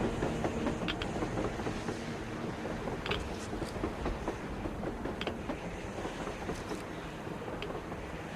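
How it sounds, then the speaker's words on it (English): A steady low rumble with rattling and clanking, like a train rolling past at moderate distance, continuous and fairly even, from a video game (Metro Exodus). "A train! A damn train on the surface!"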